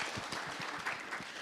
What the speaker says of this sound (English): May we please give her a round of applause.